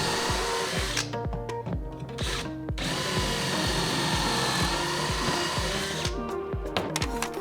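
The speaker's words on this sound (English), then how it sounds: "get your pocket hole jig back out and drill 2 more holes" A power drill whirs steadily with pulsing, rattling bursts as it bites into wood through a pocket hole jig for cabinet face frames, the motor briefly stopping and restarting a few times.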